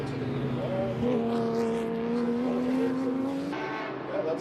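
Race cars roll onto pit road at a live racing event, their engines humming at a moderate distance with steady, slowly shifting pitch. Track commentators talk over the sound.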